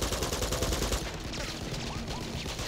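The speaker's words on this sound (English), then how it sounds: "I don't like using the machine guns, Elaine. You know I don't like using the machine guns." Rapid machine gun fire in Uncharted 2: Among Thieves, a dense rattling stream of shots that thins out partway through amid other game sounds.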